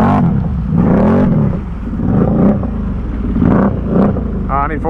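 A truck on huge Assassinator tires eases through water, its engine droning and revving steadily and close by while people talk over it.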